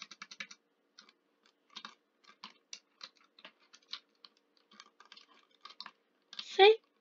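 Sticky keys on a computer keyboard are pressed in a quick, uneven run of light, close clicks and taps that end in one brief louder burst. Nobody speaks.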